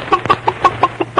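A hen clucks in a radio-drama farmhouse scene, giving about eight short, evenly spaced clucks over a steady low hum, close and moderately loud with no talking.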